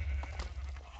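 Bleating of a sheep in the video game Minecraft, a single wavering cry standing alone over low background hum, close and fairly clear.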